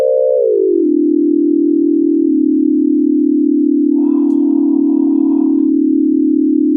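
A smooth synthesized tone glides downward then holds steady and loud, with a faint buzzy layer briefly joining midway.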